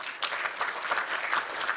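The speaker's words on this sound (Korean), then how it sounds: "다시 한번 큰 박수 부탁드립니다" An audience gives steady applause for the speaker at a morning CEO business lecture, a dense, even wash of many hands clapping with no voices over it.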